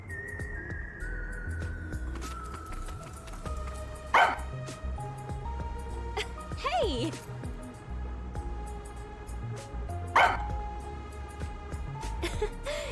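A dog barks in the video game Rain Code, giving a few short barks that cut through game music while a voice calls out briefly.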